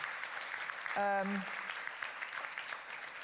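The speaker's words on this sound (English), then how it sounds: "can I first of all ask you to give a very warm round of applause to these speakers who broke the ice" Audience applause for speakers at a conference session on local energy, a fairly soft spread of clapping from a seated crowd, briefly overlapped by a tonal sound near the start.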